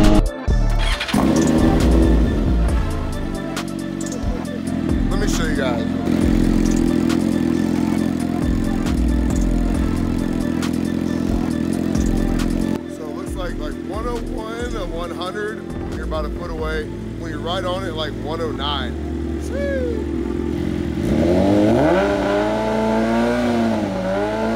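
A BMW M1000RR motorcycle with a very loud aftermarket exhaust pulls away, the engine droning and revving steadily through rising and falling gear changes for over twenty seconds, close and dominant throughout.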